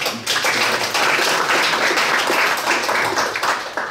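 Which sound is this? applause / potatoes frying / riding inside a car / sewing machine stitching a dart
applause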